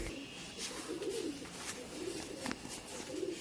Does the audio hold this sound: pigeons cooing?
yes